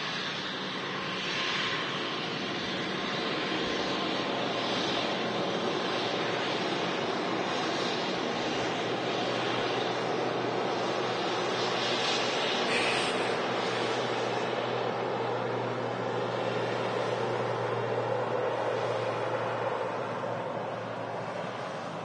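A KLM Embraer E190 airliner at Manchester Airport, a broad, steady engine roar and rush that holds loud across the whole stretch, swelling slightly and then easing, with no talk.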